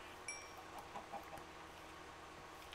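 A few soft clucks from a chicken in Minecraft, quiet and brief, over a faint steady background hum.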